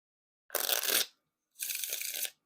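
Two bursts of Bicycle playing cards being riffle shuffled, each a quick, close, crisp fluttering rattle lasting under a second, separated by a short silence.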